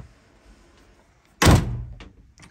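A heavy, solid fiberglass head door on a 2023 Monterey 255SS boat swings shut with one loud, close thunk that fades over half a second, followed by a few faint knocks in an otherwise quiet cabin.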